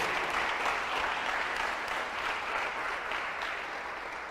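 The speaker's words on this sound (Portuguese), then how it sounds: "Dá um aplauso a ele aí" An audience claps together in steady, dense applause, holding an even level for a few seconds and then easing off slightly toward the end, with no talking over it.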